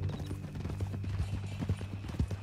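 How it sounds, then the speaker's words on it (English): Horse hooves clip-clopping at a steady walking pace in the video game Red Dead Redemption 2, moderately loud over a low background hum. "That a new horse?"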